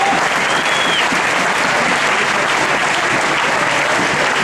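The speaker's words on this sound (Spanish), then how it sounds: "Un fuerte aplauso para ellos, por favor." Dense, sustained applause from a large festival crowd at a Moros i Cristians celebration, loud and continuous throughout with no break, a steady wash of many hands clapping.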